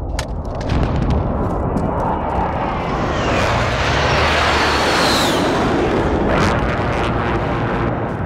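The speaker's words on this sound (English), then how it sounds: "Allied precision airstrike incoming." A barrage of precision airstrike explosions in Call of Duty Modern Warfare, loud, dense and continuous booming and roaring throughout, with rumbling blasts and a rushing, jet-like swell midway.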